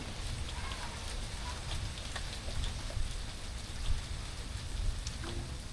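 Rain falls steadily outdoors in a village setting, a continuous broadband patter with occasional louder drops, no talk over it.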